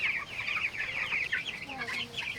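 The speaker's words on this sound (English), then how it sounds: "The timing of a rooster's crow." Chickens cluck and squawk in a busy, rhythmic series of short calls, moderately close, on a pasture farm, with faint background noise and no clear crow.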